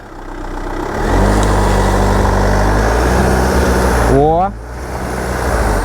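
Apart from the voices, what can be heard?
Land Rover Freelander 2 diesel climbing slippery grassy hill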